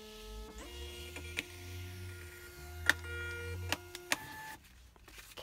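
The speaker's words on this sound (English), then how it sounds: "as you can see, I use a label writer 4XL." A LabelWriter 4XL label printer prints a shipping label with a steady whirring motor feed over several seconds, punctuated by a few sharp clicks and ticks, close and fairly quiet, ending as the mechanism stops.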